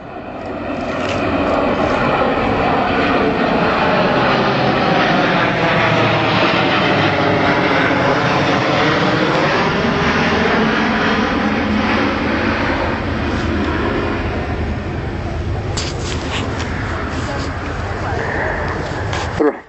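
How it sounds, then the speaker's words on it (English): An Airbus A400M Atlas military transport aircraft flies a display at RIAT 2012, a loud, steady turboprop roar with slowly sweeping tones as it passes, under a commentator's voice throughout. "the Airbus military A400M, now known as the Atlas"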